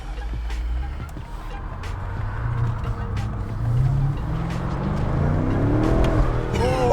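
A BMW M5 F90 engine revs up on the road with exhaust pops and crackles, rising in pitch as it accelerates, close and loud under light cabin chatter.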